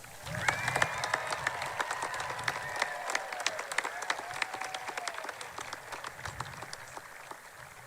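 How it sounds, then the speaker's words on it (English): Graduation audience applauding Red Mountain High School performers, a steady wash of clapping from a large crowd with scattered sharp claps and faint whoops, holding at moderate level throughout. "Please join me in another round of applause for our Red Mountain High School performers."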